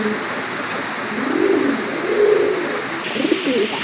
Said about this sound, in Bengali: মাশাল্লাহ আরেক জোড়া কবুতর এখানে আছে